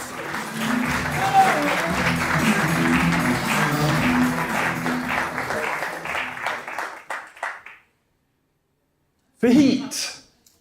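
Audience applauding a speaker being introduced at a talk, sustained clapping with some cheering and crowd voices, thinning into scattered claps and silence before a speaker's voice returns near the end.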